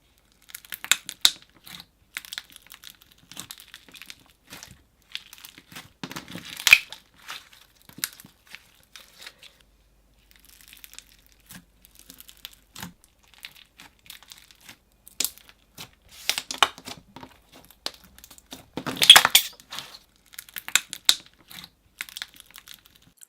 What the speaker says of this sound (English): So I added about 4 more chunks, and this became so crunchy.